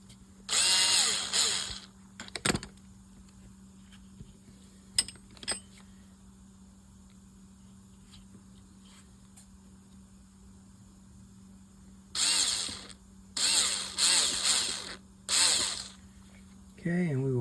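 A small power driver whirs in several short bursts, starting screws in an ABU Garcia C508GLX fishing reel during servicing, with quiet gaps and small clicks between runs.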